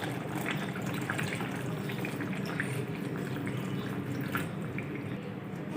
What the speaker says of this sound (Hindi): दो से 3 गिलास पानी ऐड करेंगे।